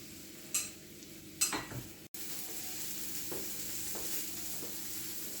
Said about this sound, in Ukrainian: Грибочки е, ще піджаряться.